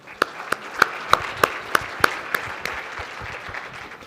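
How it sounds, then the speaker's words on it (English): A small panel-event audience gives a round of applause: sparse, distinct claps ring out at a regular beat, fading into scattered softer clapping and room murmur toward the end. "If you would join me with a round of applause."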